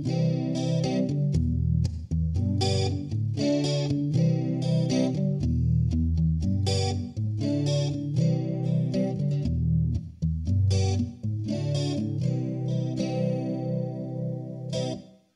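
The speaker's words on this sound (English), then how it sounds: "what the Acoustic sounds like going through the Acoustic simulator" Acoustic guitar fed through an Acoustikar acoustic simulator pedal in piezo mode, heard as bright, steady strumming and picked chords at moderate volume with no voices, fading out at the very end.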